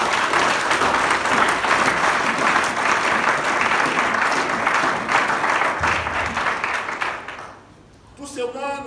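A church congregation applauds together to acclaim the Lord during a French-language worship service, with sustained loud clapping and crowd noise that fades out near the end, leaving brief scattered sounds.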